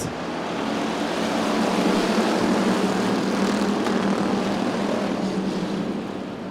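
Bomber class race cars roar off at the green flag of the final race of the night at an Arizona speedway, a loud, steady, dense engine roar throughout with no voices.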